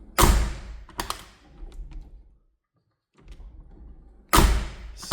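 Rear door of a Mercedes W463 G-Class fitted with a new check strap, swung through its detents: sharp thuds and clunks at the start and end, lighter mechanical taps and movement between, and a brief silent pause.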